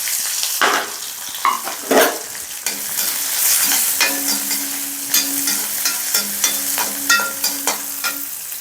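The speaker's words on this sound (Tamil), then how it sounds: "இதையும் நம்ம வதக்கிறோம் எண்ணெயில்." Onions sizzle steadily in hot oil, with a broad frying hiss running throughout and several sharp spatula scrapes and stirs on the pan, close and loud, with no talking.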